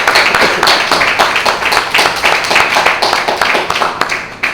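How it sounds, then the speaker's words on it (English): A crowd gives ministers a round of applause at a religious gathering, loud, dense clapping from many hands filling the room steadily for several seconds. "Give our brother ministers another round of applause"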